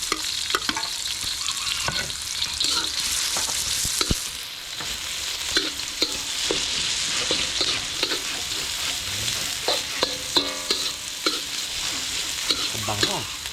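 Onions fry and sizzle steadily in a hot pan while a utensil stirs and scrapes them in frequent irregular clacks, close and continuous.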